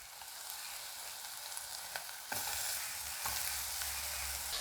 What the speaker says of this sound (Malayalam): നമ്മുടെ സവോളയും ഇഞ്ചിയും വെളുത്തുള്ളിയും ഒക്കെ ഒന്ന് നന്നായിട്ട് വഴന്ന് വന്നിട്ടുണ്ട്